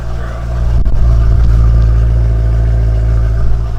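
A BMW M3 fitted with an aftermarket exhaust, its valves closed, idles close by with a steady, loud, low droning rumble that holds even throughout.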